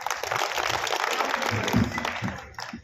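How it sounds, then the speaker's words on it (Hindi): Audience applause at an Awadhi kavi sammelan poetry gathering in Musafirkhana after a recitation: a dense wash of clapping with some low thumps and faint voices mixed in, tapering off at the end. "एक बार जोरदार ताली बजाइए आप"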